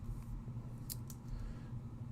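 Scissors gummed up with adhesive from foam tape make two quick, sharp snips close by, over a steady low hum.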